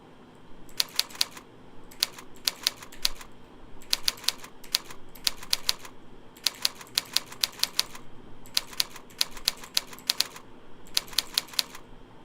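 Touch typing on a computer keyboard, with fast bursts of crisp key clicks in short rhythmic clusters separated by brief pauses, close and fairly quiet over a low room hum.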